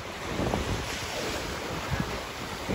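Sea waves wash onto a beach under strong wind buffeting the microphone, making a dense, steady roar with surging swells throughout.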